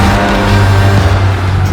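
A Ferrari 550 Maranello from 2000 runs its V12 with a loud, steady, close engine drone and a deep, continuous tone throughout.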